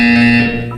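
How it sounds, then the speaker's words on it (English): Loud electronic buzzer tone from the Portal 2 video game, a steady harmonic drone sounding alone for under a second before fading slightly. "When you hear the buzzer, look down at the floor."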